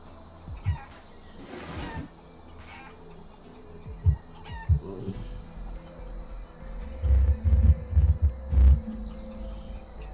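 Chicken clucks and squawks from a chicken form in the video game Guacamelee Super Turbo Championship Edition, a series of short bursts with thuds between them, scattered across the clip and louder near the end, with no speech.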